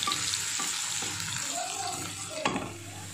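Sliced onion frying in a pan, a steady soft sizzle with faint stirring scrapes and a brief clatter near the end.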